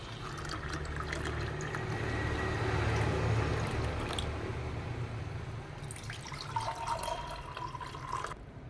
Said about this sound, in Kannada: ರೆಡಿಯಾಗಿದೆ ಪಾನಕ ಈಗ ಸರ್ವ್ ಮಾಡ್ತೀನಿ ನೋಡಿ